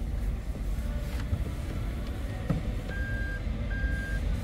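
The reversing chime of a Toyota Raize 1.0 Turbo GR Sport CVT beeps as two sustained tones under a constant low rumble of engine and road noise, with faint clicks scattered through.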